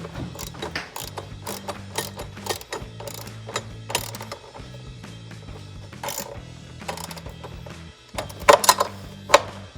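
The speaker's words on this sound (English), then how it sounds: "Just get my 10mm socket on top here. Get the wrench here, hold it." A ratchet wrench with a 10mm socket clicks in quick repeated bursts while snugging bolts on a 2011-2023 Ford F-150 oil separator install, close and crisp, with short pauses between strokes and no talking.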